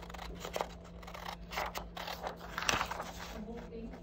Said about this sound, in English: So go ahead and cut it out and cut it just right on the lines.